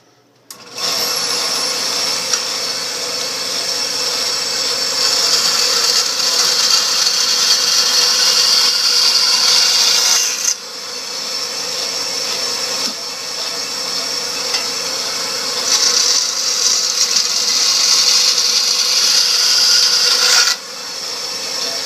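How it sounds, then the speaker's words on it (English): A bandsaw cuts bone knife handle scales, trimming them to length for a fixed-blade knife, with a loud, close, steady high whine and rasp that runs for long stretches, broken by a few brief pauses and shifts as the cut changes. "we'll take it over here to the bandsaw and"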